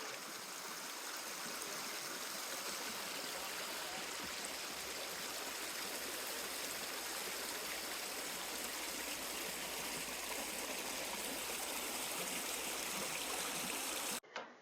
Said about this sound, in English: And then we're back to river fording.